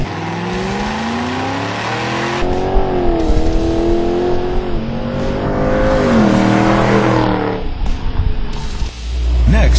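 A Ford Mustang's 4.6-liter modular V8 with a CORSA performance exhaust revs and accelerates through several gears, its deep exhaust note climbing in pitch with each pull and dipping on shifts, loud and close.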